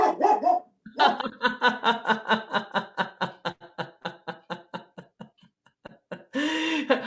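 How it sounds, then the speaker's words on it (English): A dog barks repeatedly in a fast, regular series of sharp barks, close and loud, with a brief pause near the end. "I think you have some barking going on over there."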